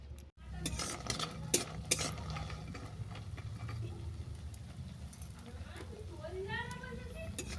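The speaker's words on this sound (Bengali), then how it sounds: "এরপর কোনার মধ্যে দেবো 2 টেবিল চামচ সরষের তেল, দিয়ে আমি প্রথমে বড়িগুলোকে ভেজে নেব।" Lentil dumplings (bori) fry in two tablespoons of mustard oil while being stirred, a low, continuous sizzle broken by scraping and clinking of a utensil, with a brief voice near the end.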